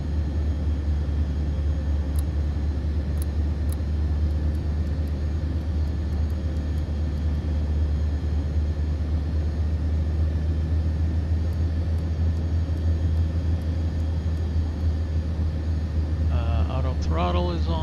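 Aircraft engine at throttle in Microsoft Flight Simulator 2024, a steady loud low drone holding constant throughout, with a brief burst of higher chatter near the end.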